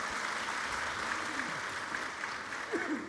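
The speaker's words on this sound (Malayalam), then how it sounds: "കൈയടിക്ക് വളരെ നന്ദി." Audience applause at a crowded Kerala Literature Festival 2026 session, a steady wash of clapping that holds evenly through the whole stretch at moderate level, with faint murmurs underneath.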